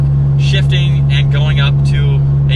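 A third-generation Toyota Tacoma with 5.29 gears climbs a hill in fifth gear under 3,000 RPM, its engine a steady low drone as someone talks over it.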